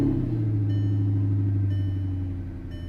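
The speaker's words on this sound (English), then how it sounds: "Wonderful sounding V8 on this thing" An Audi R8 V8 idles close by, a deep steady rumble with a low hum that eases slightly toward the end, no talk.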